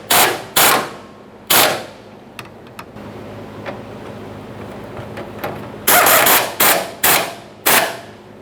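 Short bursts from an impact gun tightening the fuel tank straps on a 1992-1996 Toyota Camry, several loud rattling blasts, a few clustered at the start and more at the end, with quieter workshop ticks between.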